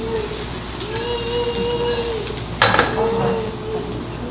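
Shiitake mushrooms sizzle in peanut oil as they are stirred in a pan, a steady close crackle with a brief scrape of the utensil partway through.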